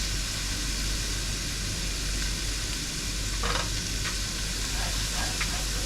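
Food frying lightly in a pan for a steak with creamy yabby sauce, a steady close sizzle throughout with a few brief clinks of a utensil stirring partway through.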